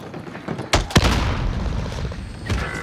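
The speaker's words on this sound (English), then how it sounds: "Frag grenade out." A frag grenade going off in Call of Duty Warzone Pacific: two sharp, loud blasts close together, followed by lingering rumble and another softer burst near the end amid gunfire-like noise.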